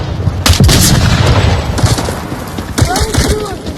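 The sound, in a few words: grenade explosion in a video game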